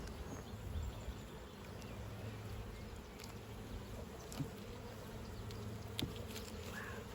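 Bees swarm around an opened hive during an inspection, a continuous soft buzzing with individual insects drifting past, plus a few faint clicks and knocks from handling the frames.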